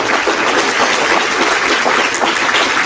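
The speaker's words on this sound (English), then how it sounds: "But let's give a round of applause for Frank." An audience at a literary talk gives loud, sustained applause for a guest speaker, a thick, steady wash of many hands clapping close by.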